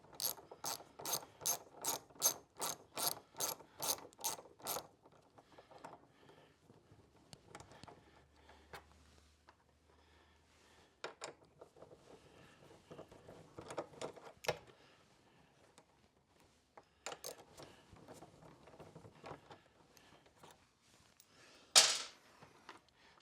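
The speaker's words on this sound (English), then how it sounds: "To remove the gas tank, I'm going to take a 10mm socket to these back two mounting bolts here." Ratchet with a 10mm socket loosening the rear gas tank mounting bolts on a Ninja 250 motorcycle, a close rapid series of sharp clicks, then scattered quieter clicks and handling noises.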